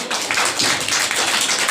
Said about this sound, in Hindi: एक बार जोरदार तालियां हो जाएं और जोरों की तालियां हो जाएं हमारे इन परफॉर्मेंस के लिए